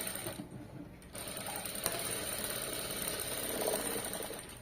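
A sewing machine stitches the front part of a princess-cut blouse with a shaped belt, a steady rapid needle rattle running continuously at close range after a brief pause near the start.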